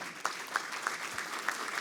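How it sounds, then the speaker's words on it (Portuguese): Applause from an audience at a formal signing ceremony between two Brazilian traffic agencies, a steady clatter of clapping with a few sharper claps standing out, moderately loud and with no voices over it. "Os nossos aplausos."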